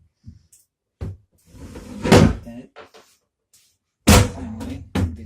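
Doors of a small kitchen's cabinets with a soft-closing system are opened and shut, producing several close, solid knocks and thuds with short rattling moments in between, in an otherwise quiet room.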